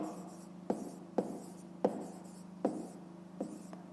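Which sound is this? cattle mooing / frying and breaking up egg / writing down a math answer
writing down a math answer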